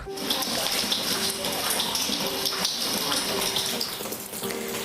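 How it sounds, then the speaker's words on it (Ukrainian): Rainwater trickles and drips through holes in the damaged roof of a war-wrecked school lyceum in Hostomel, Ukraine, a steady splashing and gurgling water noise filling the room with faint voices in the background. "Бачите, як все тут капає."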